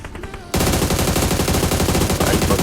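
Rapid automatic gunfire from PUBG gameplay, a loud, dense burst that starts abruptly and keeps hammering without a break, close and heavy.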